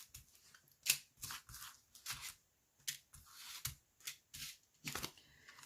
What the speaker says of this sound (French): Alors, on va sortir 3 cartes.